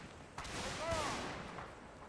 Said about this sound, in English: Redding taken down by the fine cannon explosion of Verteven.